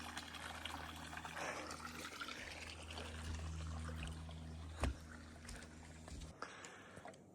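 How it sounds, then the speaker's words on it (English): A small tannic river trickles and flows beside a trail near Seaside and Seagrove, a faint steady watery wash with a brief knock partway through and a low hum underneath. "Got a little river right here."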